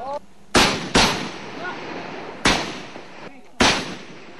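Gunfire exchanged between soldiers and rebels in a firefight: four sharp, loud cracks, two close together at first and then two more spaced apart, each with a short echoing tail.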